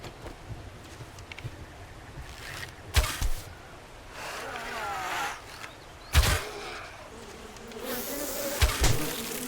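Buzzing bees in the survival game 7 Days to Die, a steady insect drone running under game ambience, broken by a few sharp bursts of louder in-game noise.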